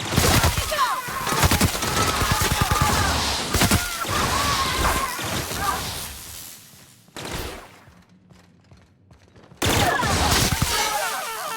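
Gunfire in The Outer Worlds crackles in loud, rapid volleys, dies away into a near-silent gap, then erupts again close and heavy.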